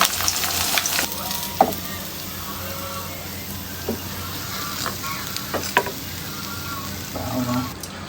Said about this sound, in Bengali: বাকি দুই পিস মাছ আমি ভেজে দেবো